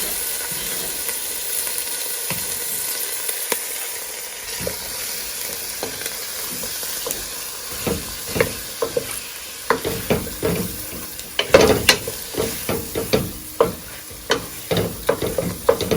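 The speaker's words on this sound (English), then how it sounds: "I'm going to just let this saute until the onions begin to sweat or become" Onions sauté in a pan for yellow rice with sausage, a soft steady sizzle with scattered stirring scrapes and clinks that grow busier in the second half, close and moderately quiet.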